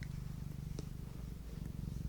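Cats purr close to the microphone, a soft, continuous low rumbling drone with a steady pulsing rhythm and faint clicks, alone with no talk.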